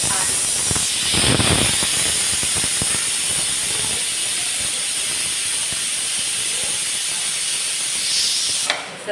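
Goat mutton cooking in a pressure vessel releases a loud, steady steam hiss that runs for most of the span, with faint rattling underneath and a brief burst near the start before it cuts off abruptly at the end.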